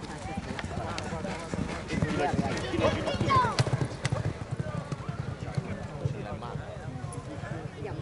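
Horses galloping in a palio trial race at Piancastagnaio, hooves clip-clopping in a busy, uneven rhythm under shouting crowd voices and speech throughout.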